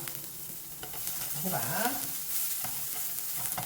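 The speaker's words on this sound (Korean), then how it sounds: "호박 볶아주세요." Salted zucchini stir-fried in a lightly oiled frying pan, a soft sizzle with scraping and stirring strokes from a utensil, fairly close and steady, with no talking.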